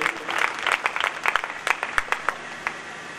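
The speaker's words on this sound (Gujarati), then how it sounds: "આપણા મહોત્સવમાં અત્યાર સુધી પધારેલ અત્રે ઉપસ્થિત સૌ સંત સમાજને પણ આપણે સૌ તાળીઓના નાદથી વધાવીએ." A crowd at a Swaminarayan temple festival in Lunwada applauding to welcome the saints, dense clapping that thins out to scattered claps, close and lively.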